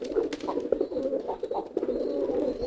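Domestic pigeons coo repeatedly at close range, soft throaty rolling calls overlapping in a steady loft chorus with no talk.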